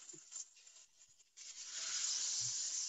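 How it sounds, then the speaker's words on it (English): Stuffed chicken roll sizzling in a hot pan, a soft hiss that swells suddenly and holds steady, close by. "Oh, listen to that sizzle."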